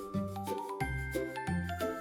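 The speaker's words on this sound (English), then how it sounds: "They giggled, a sound like tinkling bells" Tinkling bells ring in a light, sparkling sound effect, three quick jingling phrases in a row with bright sustained chime tones, soft and clear with no voices.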